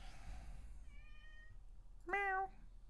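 A cat named Charlie meows twice, a soft drawn-out call followed by a louder, sharper one, close by against quiet background hum.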